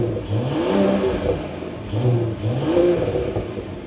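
A Mercedes CLE 53 AMG coupé's 3-litre six-cylinder engine and exhaust rev up in repeated surges, the pitch climbing through several gear changes, loud and close from inside the car.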